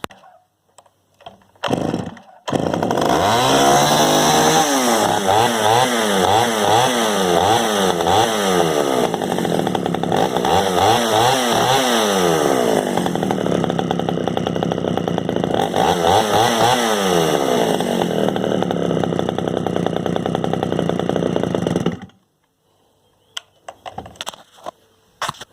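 A Pioneer P25 chainsaw engine, freshly refuelled, starts after a few short pulls and runs loud and close for about twenty seconds, rising and falling in revving surges before cutting off.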